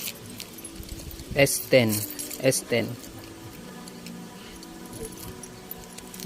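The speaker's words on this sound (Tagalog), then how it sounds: "Hanapin lang natin yung susi." A bunch of keys jangles in a few short metallic bursts, close and bright, with a person talking in the background.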